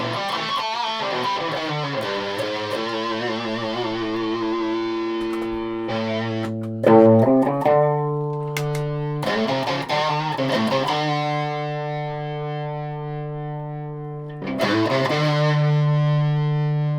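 Heavily distorted electric guitar through a germanium Big Muff-style fuzz pedal plays sustained, fuzzy chords and notes, with a thick saturated tone and brief pauses between phrases.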